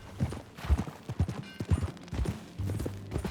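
Horse hooves clip-clopping in a steady trot in Red Dead Redemption 2, close and clear, with a brief low snort or whinny near the end.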